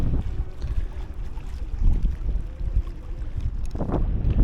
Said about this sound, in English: There is a bit of a wind